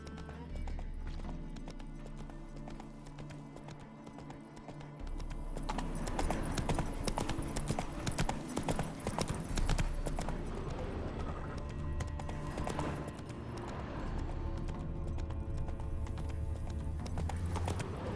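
Hooves of Roach, Geralt's horse in The Witcher 3: Wild Hunt, clip-clop steadily and close, a continuous walking rhythm with an occasional whinny under game ambience.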